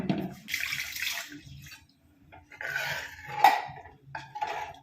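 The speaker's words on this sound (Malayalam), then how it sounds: "പുളി അധികം കുറച്ച് വെള്ളം ഒഴിക്കാം" Water is poured into a pan of simmering tamarind curry in a home kitchen, in short, close splashing bursts with gaps between them.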